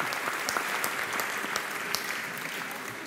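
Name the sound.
audience applause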